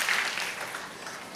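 A church service congregation applauding, a continuous roomy wash of many hands clapping throughout, moderately loud, with faint voices underneath.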